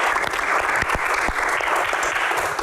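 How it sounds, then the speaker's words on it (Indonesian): An audience at an Indonesian stage event breaks into dense, steady applause, many hands clapping together at a constant, fairly loud level from start to finish with no voices on top. "Tepuk tangan semangatnya untuk box kali ini"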